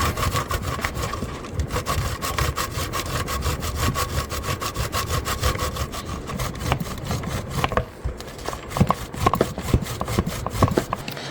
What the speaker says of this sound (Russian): эту часть натираем с вами на крупной терке